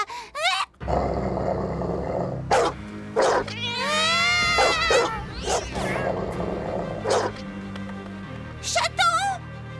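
A cartoon cat yowls and meows in a string of loud, drawn-out wavering cries and short bursts, mixed with grunts and a rising caterwaul in the middle, spaced through the scene with background music beneath.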